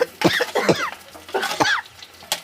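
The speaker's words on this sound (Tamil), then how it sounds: "நான் தானுங்க புகைக்காண்டி இருமினேன்" Several harsh, close coughs from cooking smoke in quick succession, a short fit of coughing with brief pauses between bursts.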